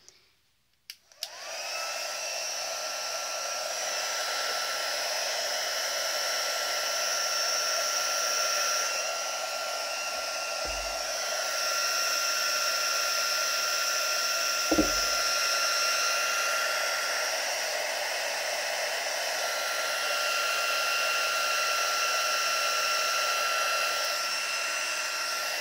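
A heat tool blows steadily and loudly for about 25 seconds, melting embossing powder on cardstock for a Christmas copper pine cone card. The whirring hum stays constant throughout, with a couple of faint knocks and no talk.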